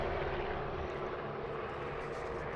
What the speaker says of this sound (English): There are the Dawn Patrol air show aircraft that just passed over.